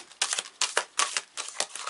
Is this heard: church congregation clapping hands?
no